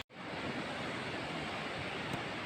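Ocean surf at the seaside in Maigo washes in as a continuous broad roar of breaking waves, steady and fairly loud with a faint wind-like hiss and no talking.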